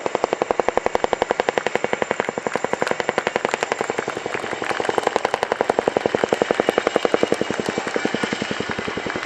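A Chinook twin-rotor helicopter makes a flying display at the International Air Tattoo airshow at Fairford, its rotors pounding out a loud, fast, steady thudding beat that swells as it passes close by.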